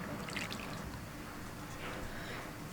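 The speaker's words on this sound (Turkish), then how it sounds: "Patateslerimi dilimleyip tavaya dizdikten sonra bir su bardağı üzerinde süt ilave ediyorum" Milk is poured over sliced potatoes arranged in a pan, a faint, soft dribbling and splashing with a couple of brief brighter splashes.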